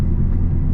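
A drag race car running on a new drag transmission tune roars steadily in third gear, a deep close engine rumble holding at full throttle through the brief moment.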